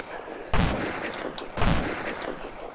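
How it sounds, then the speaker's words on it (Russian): Two loud, sharp gunshots about a second apart ring out in a video game, each with a short decaying tail, with no talking. "И стойте так и просто стреляйте по всем."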